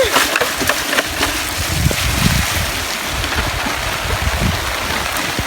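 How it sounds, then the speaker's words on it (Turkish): Steady rain patters outdoors on a mountain plateau with a continuous wash of hiss and scattered drops, moderately loud throughout. "Yağmur da başladı"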